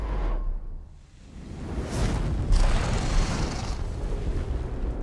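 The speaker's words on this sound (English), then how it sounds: "She set fire to the ship." Burning ship set ablaze in the video game Divinity: Original Sin II, a loud whooshing rush of flames with a deep rumbling roar that swells and stays dense throughout, no talking.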